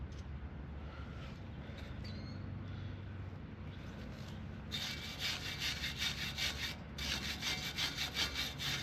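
Wire brush scrubbing bolts on farm equipment, a steady rasping scrape that grows louder and more rhythmic halfway through, with repeated back-and-forth strokes close by and no talking.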